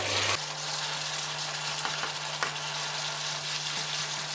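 Tomatoes sizzle and fry steadily in a hot pan nearby, with a few faint scraping stirs over the constant crackle.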